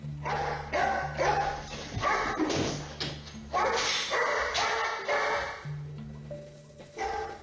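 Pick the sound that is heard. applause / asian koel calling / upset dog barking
upset dog barking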